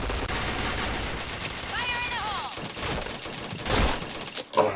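Gunfire rattles through a shooting video game in short, dense bursts under a steady layer of game sound, and a person talks over part of it.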